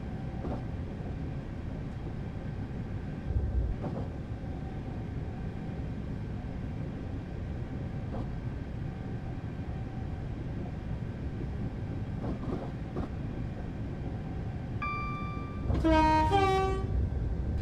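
A Class 444 electric train in Train Simulator 2015 runs at speed on the Woking to Portsmouth Harbour route, a continuous rolling rumble with faint clicks, ending in a loud, two-tone horn blast.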